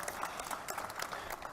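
A small crowd claps at a news conference, a faint, steady patter of hands that continues throughout.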